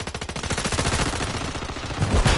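Rapid automatic gunfire in a video game, dense rattling bursts firing continuously and loudly at close range, with a heavier impact near the end.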